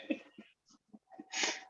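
A single sneeze with a few breathy sounds around it, fairly close and clear, with no talking over it.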